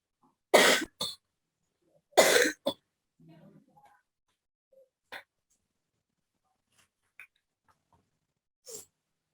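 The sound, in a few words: coughing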